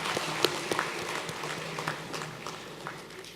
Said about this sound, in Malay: sila beri tepukan gemuruh untuk semua pemenang Anugerah Akademik Negara 2011 dan